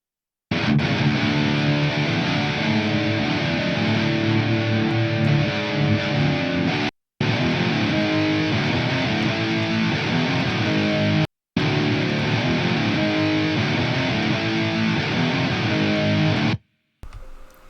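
Heavily distorted electric guitar tracks played through a Laboga Chainsaw amp, dense and loud in sustained riffs with two brief breaks, then trailing off at the end.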